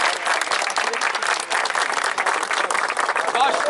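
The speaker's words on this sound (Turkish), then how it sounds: "Şampiyon takımı kocaman bir alkışlıyoruz arkadaşlar." Dense, sustained applause from a crowd at a sports tournament trophy ceremony in Izmir, loud and continuous for the whole stretch with no pause.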